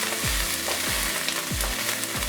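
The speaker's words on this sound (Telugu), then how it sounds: "గోల్డెన్ బ్రౌన్ కలర్ వచ్చే వరకు ఫ్రై చేసుకుందాం" Egg bhurji with green chillies and curry leaves fries in a pan, a steady close sizzle with several soft scraping stirs of the spatula at regular intervals.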